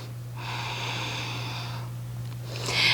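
A yoga practitioner holding a half splits pose takes a long, audible breath through the nose, close and soft over a steady low electrical hum, with a brief rustle at the end.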